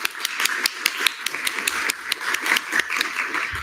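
An audience at a student government senate meeting gives a quick round of applause, with scattered, fairly close hand claps forming a steady crackling patter throughout.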